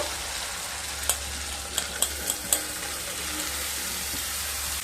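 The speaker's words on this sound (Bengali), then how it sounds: "এবার কেটে রাখা চাল কুমড়োগুলো দিয়ে দেবো" Ash gourd pieces are added to sautéed spices for a village-style coconut prawn and ash gourd dish, then fried and stirred: a steady sizzle with a handful of sharp utensil clicks against the pan over a low hum.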